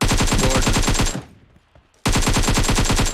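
Rapid automatic gunfire in the mobile battle-royale game PUBG Mobile, two loud bursts of evenly spaced shots separated by a brief near-silent gap, with no talking over the shots.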